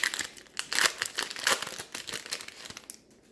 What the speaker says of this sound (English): maybe I'll just start tearing through these